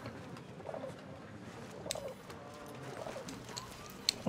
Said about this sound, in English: Stupid bird.